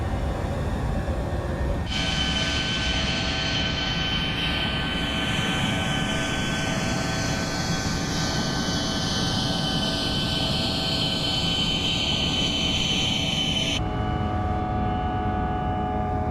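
Embraer E190 jet in Microsoft Flight Simulator roars steadily through takeoff and climb, a loud continuous engine drone with a whine sweeping downward as the aircraft gains altitude, the tone shifting near the end.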